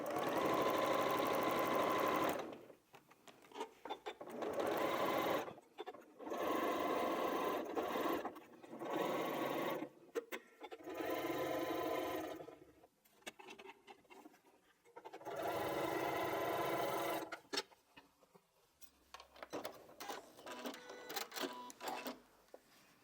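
Sewing machine stitching a seam to join two quilt halves, running in several steady whirring bursts of a few seconds each, separated by short quiet pauses, close and clear with no talk.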